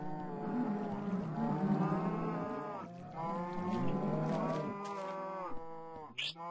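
Cows in the Minecraft video game moo repeatedly, with long, overlapping, drawn-out calls filling the clip at close range and a short pause near the middle.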